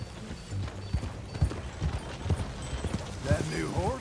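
Horse hooves clip-clop in Red Dead Redemption 2, an even, moderately close trot of soft repeated thuds, with voices talking over the last part.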